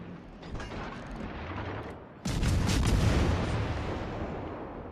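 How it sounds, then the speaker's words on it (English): Battleship Minnesota's main guns fire in World of Warships: Legends, a heavy booming salvo that erupts midway and rolls on loud with a long rumbling tail over lower background noise. "Shots out again on the Minnesota."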